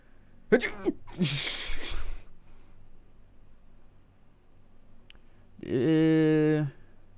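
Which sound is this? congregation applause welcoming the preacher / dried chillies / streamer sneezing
streamer sneezing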